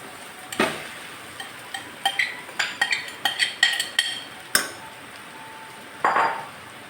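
A spoon stirs potatoes into a pan of bonda filling, giving a steady series of sharp metallic taps and scrapes against the pan, close and distinct, with a brief rustle near the end and no talking.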